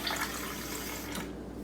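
Water runs steadily from a newly installed pot filler faucet in a kitchen, giving a continuous close hiss and splash that drops off sharply near the end.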